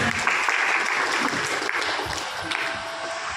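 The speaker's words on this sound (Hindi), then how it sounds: "एक बार तालियों से अपने प्रवीण जी का स्वागत है।" Steady applause from a crowd, dense and sustained throughout, with a faint voice briefly audible underneath.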